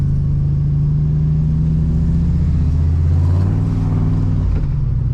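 A big turbo street truck accelerates hard, its deep engine drone climbing in pitch, then dropping sharply at a solid gear shift near the end; loud and close throughout, with no talk.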